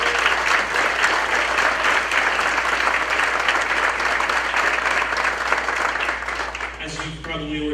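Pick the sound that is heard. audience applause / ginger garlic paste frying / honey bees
audience applause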